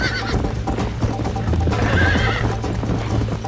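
A horse whinnies partway through over a busy, continuous background of hooves and game noise in Red Dead Redemption.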